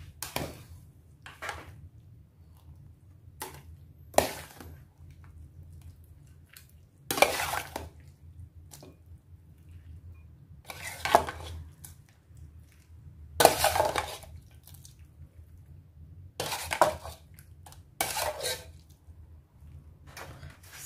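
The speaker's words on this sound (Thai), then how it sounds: "ตักใส่ถ้วยเลยค่ะ" Egg soup with pork and meatballs is ladled into bowls, heard as scattered close clinks and scrapes of a ladle against crockery separated by quiet pauses.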